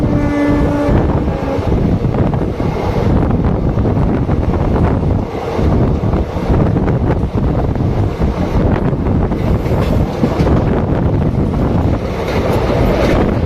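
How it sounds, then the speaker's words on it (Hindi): Loud, continuous rumble and rattle of a moving train near the Varanasi Bareilly Express crossing, with wheels clattering and heavy wind buffeting the microphone throughout. "सामने किसी ट्रेन की क्रॉसिंग भी होने वाली है।"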